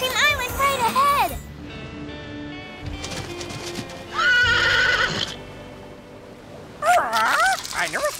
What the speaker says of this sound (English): I never saw no horse do that before.